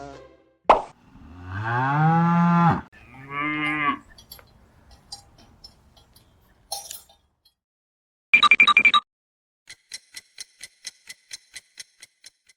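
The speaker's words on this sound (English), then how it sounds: "It's a cow." A cow moos twice in long, drawn-out lows near the start, followed by a short pop and a run of quiet ticking.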